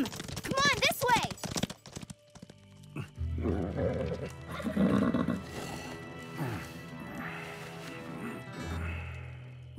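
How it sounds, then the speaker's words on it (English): Cartoon horses clip-clop and whinny in quick hoof beats mixed with thuds and crashes, fairly close, while characters talk over them. "Prue, get the horses"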